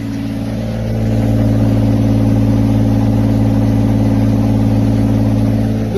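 A BMW engine holds a steady 2,000 RPM, heard from behind the car as a loud, constant low drone that swells slightly in the first second and then stays even.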